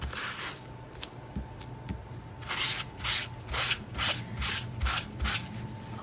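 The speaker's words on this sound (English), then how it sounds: "We're just gonna give them a quick wipe down." Quick rubbing strokes of a cloth wiping tacky alcohol ink off a crafted surface, a series of soft, close swishes in an uneven rhythm.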